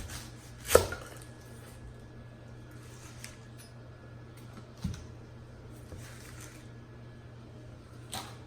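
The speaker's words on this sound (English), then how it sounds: "The way I do it is I cut off the leaves here." A knife cuts through pineapple leaves on a board, with one sharp chop near the start, a softer cut midway and another at the end over a quiet room hum.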